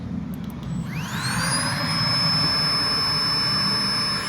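A steady electric whirring hum from an air pump inflating a mattress, with a rising whine as the motor spins up, then a constant droning note, close and fairly loud.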